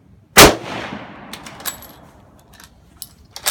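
A single loud, sharp shot from a Mauser 98k bolt-action rifle, decaying quickly, followed by faint metallic clinks and small rattles from the action and ejected brass.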